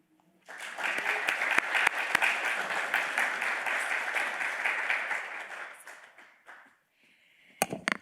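An audience at a gender inclusivity keynote panel breaks into sustained applause for the moderator, many hands clapping steadily for about six seconds before tapering off into quiet, followed by a couple of close taps at the end.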